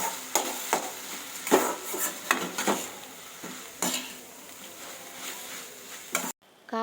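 A spatula stirs ridge gourd stir-fry in a pan over a high flame, giving repeated scraping and clattering strokes over a soft sizzle, fairly close, with no voices, ending in a short silence.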